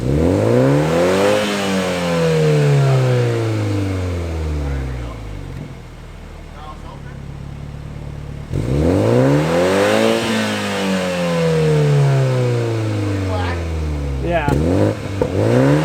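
A Toyota A90 Supra with its exhaust valves closed revs hard twice, each pull rising and falling loudly up close, with a quieter idle between them.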